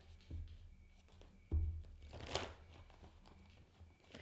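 Large tarot cards being shuffled, soft riffling and sliding with a couple of thumps as the deck is handled, quiet and close.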